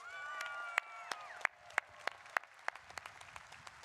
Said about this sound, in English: That's worthy of a big round of applause.